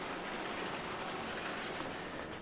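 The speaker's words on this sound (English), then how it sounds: "Guess the train must have just gone by." A passing train in the video game Farming Simulator 22 gives a steady, broad rushing rumble with faint rail noise, continuous and fairly close throughout.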